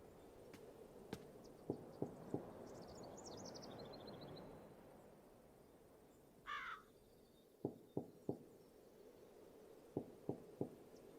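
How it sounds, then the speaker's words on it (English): Crow cawing in the game Darkness Within, several sharp caws in short bursts of three spread through an otherwise quiet, hushed ambience, with a brief rustling burst midway. "Hi, crow friend again."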